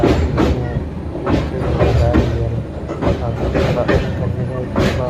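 A passenger train on the Bangalore to Kukke route rolls along with a loud, rhythmic clickety-clack of wheels over rail joints, heard close from inside the coach under a constant rumble, with faint voices mixed in.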